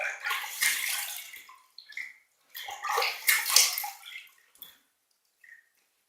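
Water splashes in short bursts as a safety razor is rinsed under running water during a shave with Palmolive shave cream, with two longer gushes, light drips and a near-silent pause at the end.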